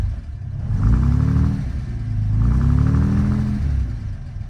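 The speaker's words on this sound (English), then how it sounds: "and the car starts right up." A 1957 Lancia Aurelia B20S GT idles after a cold start on a chilly morning, its engine a steady close rumble that swells twice in smooth revs, with no voices over it.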